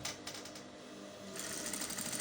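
Sewing machine stitching the side seams of a homemade wrap blouse, a steady continuous motor whir that grows slightly louder and brighter partway through, heard alone with no talk.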